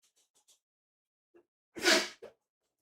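One sharp, close sneeze bursts out after a small intake of breath, loud against near silence, followed by a brief trailing sound, with faint ticks before it.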